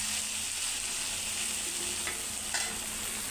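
Continuous bright sizzling of tempering spices in hot oil for upma, before semolina is added, steady and close, with a couple of faint clicks of a utensil.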